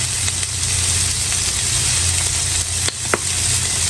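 Minced garlic sizzles in a pan alongside onions, a steady close hiss and crackle with a couple of short sharp taps, no voices over it.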